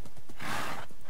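Hooves clip-clop from a horse in the Minecraft video game, a short burst of steps with a brief whinny-like swell in the middle, fairly loud and close, with no talk over it.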